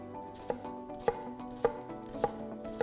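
A kitchen knife chops an onion on a board, rocking on its edge rather than lifting straight up and down, giving five evenly spaced, crisp close knocks roughly every half second with no talking.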